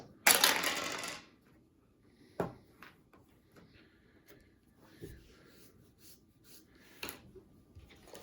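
Dice rattle and clatter on a tabletop during a football dice game, a loud burst of rolling at the start followed by a few sparse clicks and knocks in a quiet room.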